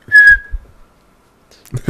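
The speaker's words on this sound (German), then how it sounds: "du hast gesagt, ich pfeife, gell, wenn ich es mache" A person gives a short, clear whistle near the start, then falls quiet before people begin talking nearby at the end.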